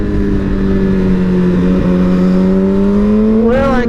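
A BMW S1000RR motorcycle accelerates hard up a hill, its loud engine note climbing steadily in pitch through a gear, then a sharp rising whine at the end.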